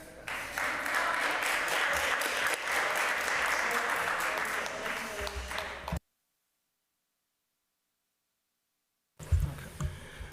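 Audience applause at a public hearing fills the room for about six seconds, steady and fairly loud, then cuts to silence before a brief burst of rustling and scattered clapping.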